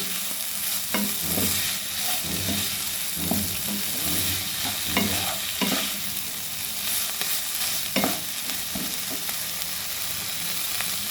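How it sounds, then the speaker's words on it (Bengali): Food in a frying pan being stirred after salt and sugar go in, a steady sizzle with a repeated rhythm of spatula scrapes and taps against the pan throughout. "নুন মিষ্টি দিয়ে আর একটু ভালো করে নেড়ে নেবো।"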